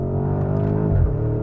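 Inside a 2024 Porsche Cayenne Turbo GT SUV, its muffled 4-liter V8 with titanium exhaust drones steadily, then rises briefly in pitch as it revs, heard close with no talking.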